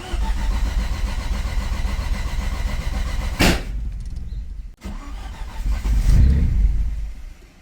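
An Audi A4 B7 with a big turbo engine cranks and catches, then idles roughly before the throttle is blipped into a rising rev, heard close and loud with no talking.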